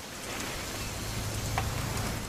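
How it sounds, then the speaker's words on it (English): Rain falling in the video game What Remains of Edith Finch, a steady soft hiss of rain on surfaces with a few closer drops, quiet and continuous without speech. "It's gonna rain the whole weekend"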